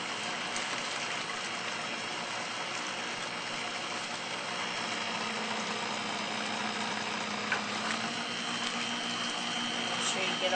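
An electric mixer whirs in a bowl of banana chip muffin batter, a steady, fairly quiet motor hum with a slight rattle that runs throughout.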